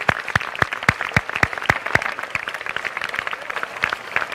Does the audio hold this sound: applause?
yes